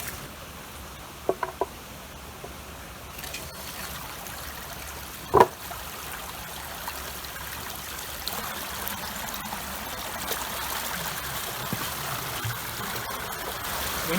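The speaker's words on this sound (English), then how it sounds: "there's a little trickle coming out from the stream" A small trickle of water runs out past a wooden board at a farm sluice on a stream, a faint, steady wash with a couple of brief knocks near the start.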